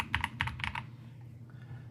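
Typing on a Hator Skyfall 80 TKL gasket-mount keyboard with silicone inserts between plate and case: a quick burst of about six close, crisp keystrokes, then a quieter tail with a couple of faint clicks over a low background hum.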